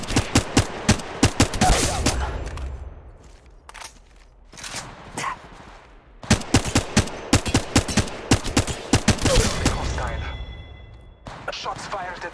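Gunfire from Apex Legends on the Kings Canyon map: rapid bursts of loud, close shots in clusters with short pauses, the volleys repeating across the stretch under a busy game soundscape, with a voice speaking between them.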